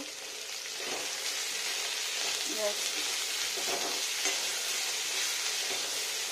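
Radish greens with poppy seed paste frying slowly in a pan, giving a steady, soft hissing sizzle close by with occasional stirring scrapes, at an even level throughout.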